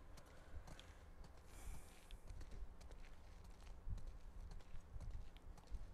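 Horse hooves clip-clop steadily at a walking pace in The Last of Us Part II, a soft, fairly distant rhythmic clatter under faint ambient game sound.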